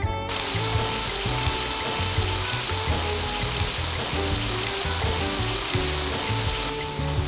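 Food browns in a little olive oil in a nonstick frying pan, a loud, close, unbroken sizzle that holds steady throughout without any voices.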